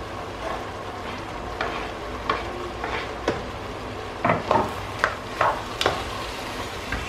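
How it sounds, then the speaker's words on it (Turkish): Pasta and liver with tomatoes being stirred in a pan, a steady low sizzle broken by a series of close, sharp scraping and clattering strokes of the utensil against the pan. "Şöyle güzelce bir karıştıralım."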